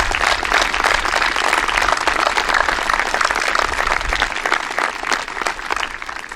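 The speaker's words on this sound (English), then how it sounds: "How about a round of applause for our parents?" A graduation audience applauds for the graduates' parents at a 2020 high school ceremony, a dense, steady wash of many hands clapping that carries on unbroken for several seconds.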